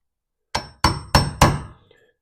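Four sharp, evenly spaced taps of a chisel being struck to score the line for a door strike plate, each ringing briefly then fading, close and clear with no talk.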